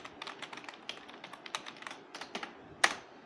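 Rapid, uneven keystrokes on a Cooler Master CM Storm Octane budget gaming keyboard with a plasticky build, close and alone, with one sharper, louder clack near the end.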